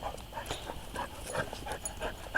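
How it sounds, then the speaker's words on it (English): Small dogs pant quickly and rhythmically close by, with soft whimpers and faint snuffles over quiet indoor background noise and no talking. "These are my precious little dogs."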